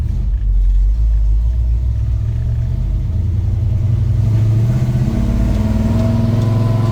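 A 1964 Ford Galaxie 500 with a 390 V8 and a TKX five-speed pulls along in low gearing, its deep, loud engine rumble rising steadily in pitch as it accelerates, heard from inside the car with no talking.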